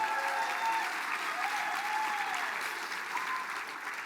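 Applause rings out for a student band at the Mille Lacs Band of Ojibwe State of the Band program, a broad, sustained round of crowd clapping that holds steady and tapers slightly, with faint tones beneath.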